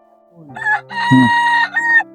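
Rooster crowing nearby, one loud drawn-out cock-a-doodle-doo with rising and falling phrases, clear and alone.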